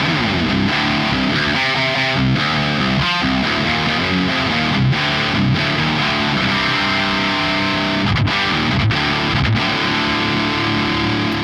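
An electric guitar played through a Soldano SLO Mini amp head, dense, heavily distorted chords and riffs, loud and continuous with brief choked pauses, no voices.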